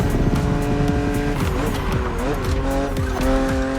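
BMW Z4 GT3 racing car driven hard in The Crew Motorfest, with steady engine drone, shifting revs and repeated tire squeal through corners, loud and close throughout.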